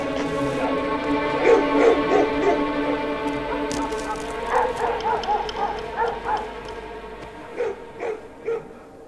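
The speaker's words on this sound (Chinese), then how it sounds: "没日没夜的狗叫，这主子不对劲，狗也跟着不对劲，整天瞎叫" Dogs bark and yip repeatedly at a palace in a Chinese costume drama, in close, uneven bursts with some whimpering in between.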